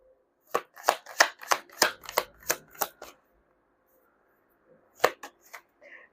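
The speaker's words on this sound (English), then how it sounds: "I just noticed that right now because I'm shuffling" Tarot cards shuffled by hand, a run of about eight crisp riffling snaps in quick rhythm, then a pause and a few more sharp card flicks, close and clear.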